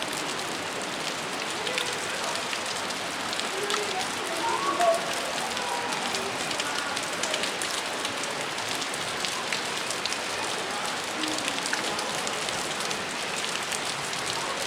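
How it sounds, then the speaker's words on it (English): Water pours steadily off a rocky cliff on a damp hiking trail, a constant broadband rush like heavy rain that holds even and close for the whole stretch, with no clear voices over it. "See how it's water coming off the cliff."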